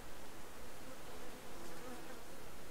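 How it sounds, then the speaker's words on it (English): Bees buzz steadily and continuously in the Subsistence survival game, a dense droning hum that persists throughout without pause. "And I just heard bees."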